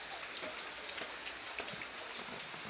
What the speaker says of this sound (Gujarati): જાત બપોરનો જ વરસાદ ટીમ નકરો ચાલુ ને ચાલુ જ છે.